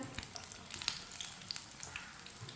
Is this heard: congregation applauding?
no